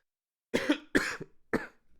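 Three sharp coughs close to the mic, the first two in quick succession and the third after a short pause, with quiet in between.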